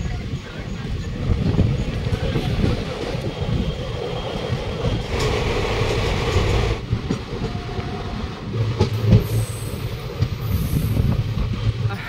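Black Diamond Express passenger train running between stations in West Bengal near Barakar, a steady loud rumble of rolling wheels and carriage noise throughout, with a brief brighter burst midway.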